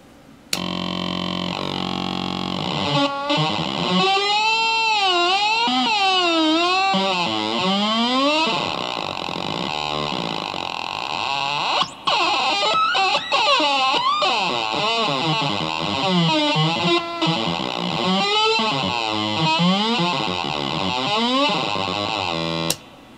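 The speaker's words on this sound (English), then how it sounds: "let's see what it sounds like with other pedals behind it. This is a Boss Metal Zone." An Atari Punk Console synth through a Boss Metal Zone distortion pedal, heavily distorted tone sweeping and warbling in pitch, buzzy and gritty, playing continuously with wobbling, gliding notes.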